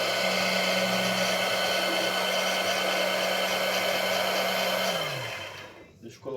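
A disc fabric cutting machine slices through layered cloth on a table, its motor giving a loud, steady whine for about five seconds before winding down and cutting off.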